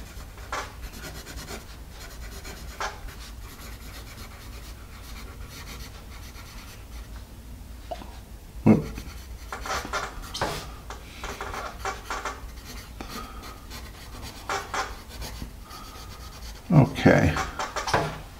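A Paper Mate EverStrong pencil scratches and rubs across paper in soft, irregular strokes, close and quiet, with a few louder bursts of scribbling near the middle and end.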